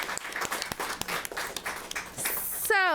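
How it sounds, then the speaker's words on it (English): Audience applause for Trinity, a student essayist, at an evening education program for King Week 2021, steady clapping from a crowd for nearly three seconds before a brief tonal sweep at the end. "Let's give Trinity a round of applause."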